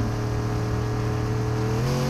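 A car engine in Fortnite hums steadily at a high pitch, then shifts as the revs change near the end, loud and close.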